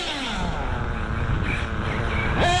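A buggy's motor runs hard and close in a continuous buzzing roar, its pitch climbing sharply in the final moment.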